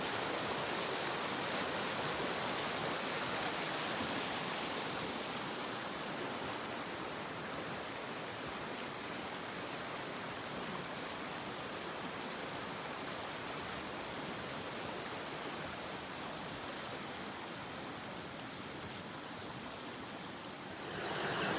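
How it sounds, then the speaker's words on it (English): A creek swollen by flooding on a farm runs close beside a garden, producing a steady, broad rushing roar that stays even and fairly loud throughout, with no voices. "I just wanted to show you where the creek was, how close it was to the garden"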